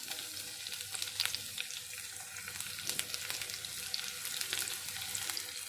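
Carrot, capsicum and onion fry in a pan for a pasta dish, giving a soft, steady sizzle with faint crackles and no voices.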